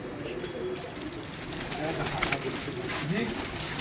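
Breeder pigeons in a Lahore loft coo in low, rolling calls against a constant background murmur, with someone talking nearby.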